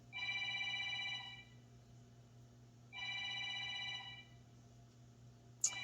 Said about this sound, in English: you're going to hear a phone ringing